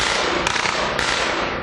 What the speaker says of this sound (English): Gunfire that sources say was also from the fugitive.